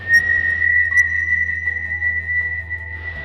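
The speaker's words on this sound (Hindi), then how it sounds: "फिर पीछे से वो जंगल से वही सीटी का आवाज़ फिर से सुनाई देने लगा।" A long, sustained whistle holds one steady tone for several seconds, with a second brief whistled note joining near the start, set against a faint low hum in an eerie horror-story scene.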